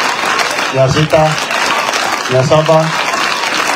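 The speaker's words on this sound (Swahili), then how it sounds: "Mimi mwenyewe mtanipigia makofi." An audience at a Kenyan gathering breaks into applause. The steady clapping runs throughout beneath an amplified speaker calling out numbers.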